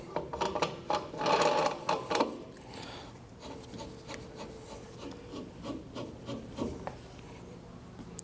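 A spacer and fixing nut being slid and threaded onto the shaft of a wheel balancer fitted with a motorcycle adapter, giving close metallic rubbing and scraping, a denser grinding stretch near the start, then lighter intermittent clicks and scrapes.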